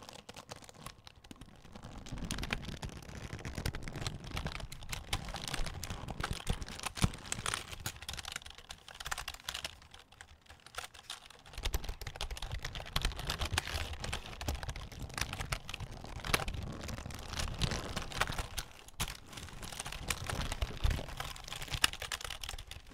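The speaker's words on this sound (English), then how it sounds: "I actually really like keyboard squeezing and like typing, and listen to this." Rapid typing on a Logitech K120 keyboard clatters continuously up close, bursts of keystrokes with brief pauses, no voices.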